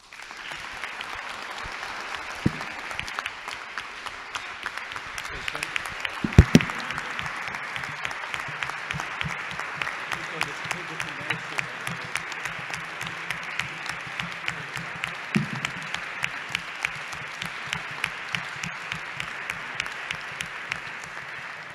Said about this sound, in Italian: sarebbe da applaudire in piedi, ma restiamo seduti.